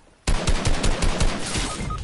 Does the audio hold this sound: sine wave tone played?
no